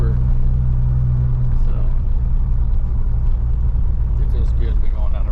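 A restored 1981 DeLorean driving down the road, its steady low engine and road rumble running throughout beneath people talking inside the car.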